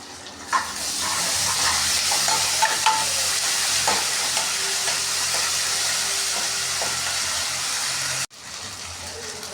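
Cumin seeds, turmeric and ginger paste frying in a pan for an okra stew, a loud, steady close-up sizzle with occasional pops and stirring, cutting off abruptly near the end.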